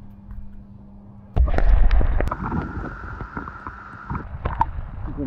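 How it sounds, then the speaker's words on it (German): Two DJI Osmo Action 4 action cameras dipped into water, a quiet hum broken by a sudden loud splash and gurgling churn, then bubbly sloshing with sharp clicks and knocks. "wir können hier beide Kameras einfach mal ins Wasser halten"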